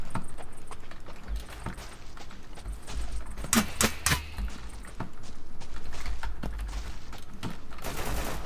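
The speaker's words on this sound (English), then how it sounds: "as you can hear those shots in the distance, that is a sniper actually in one of the towers hitting me" Distant sniper gunshots from a tower in the video game Deadside: sharp, far-off cracks, with a cluster of louder reports in the middle among sparse scattered shots over a steady ambient rumble.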